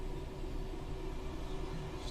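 A train passes in the Train Sim World 5 simulation on the Southeastern High Speed line, a steady broad rumble with a low hum that holds evenly throughout, with no voices.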